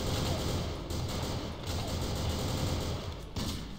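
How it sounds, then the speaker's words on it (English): Gunfire in the video game Madness Project Nexus: rapid, continuous shots packed tightly together, loud and close throughout, with a few brief dips, and no voices. "I shot that dead guy too many times before he hit the ground, wasted all my bullets on him."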